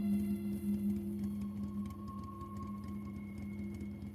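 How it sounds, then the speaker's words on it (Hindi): A cartoon tractor engine runs at night with its headlights on, a steady, droning mechanical hum with a faint whine, continuous and unchanging throughout, with no voices. "हेडलाइट की रोशनी में सखाराम ट्रैक्टर चला रहा था।"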